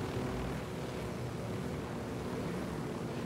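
A helicopter in Ghost Recon Wildlands comes in to land, heard as a steady, loud rotor and engine roar that holds even for the whole stretch with no speech.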